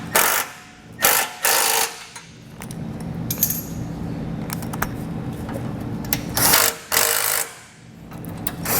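Base plate brace hardware on a 2022 Ford Escape is tightened with a power tool, producing several loud, short ratcheting bursts separated by quieter handling and clinks of metal, close by.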